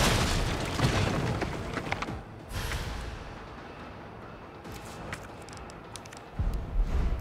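Grenade blasts in Resident Evil 3 Remake: heavy, booming bursts that open loud, fade into a rumbling tail, and return with another low thump near the end, with no talking.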